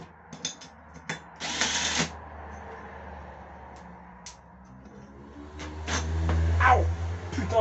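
A part is screwed back onto the crankshaft of a Stihl 4-Mix engine, giving close, scattered bursts of metallic clatter and short ratchety rasps, then a louder rising whir near the end.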